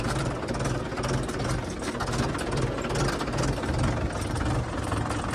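A tractor engine chugs steadily while ploughing a hard, rain-trodden field, a loud low rumbling drone with a throbbing rhythm and no pauses, close by.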